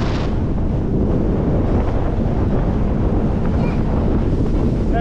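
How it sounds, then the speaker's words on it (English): Strong wind buffets the microphone aboard a 1977 Starcraft fishing boat, with 3 to 4 foot waves slapping the hull in a steady, loud roar that never lets up. "Wind's higher than it was supposed to be. Looking like about 3 to 4 foot waves right now"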